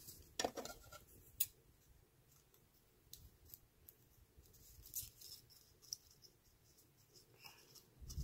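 Scissors snip through paper or ribbon while a handmade bow is trimmed without a punch board, giving soft, close, irregular cuts with a few sharper clicks against low background noise.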